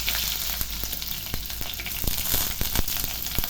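Curry leaves frying in hot oil with mustard seeds and cumin, giving a close, steady sizzle broken by sharp spitting pops and crackles, with no talking.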